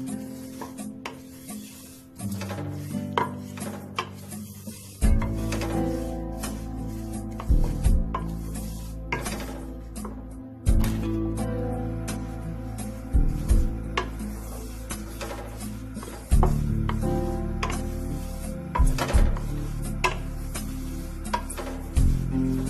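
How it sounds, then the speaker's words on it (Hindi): Sesame seeds roasting in a pan for til laddu, stirred with repeated scraping and rubbing strokes, close and steady over a faint low hum, with occasional knocks of the spoon against the pan. "अभी थोड़ी थोड़ी सिकने लगी है, इसे हम लाल सेक लेंगे सुनहरे कलर।"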